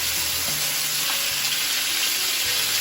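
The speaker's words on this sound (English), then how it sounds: "what I'm also going to do is just add a little bit of butter into there" Butter sizzling hard in a hot pan alongside browning lamb, a loud, dense, continuous hiss close up with faint clinks of movement underneath and no talking.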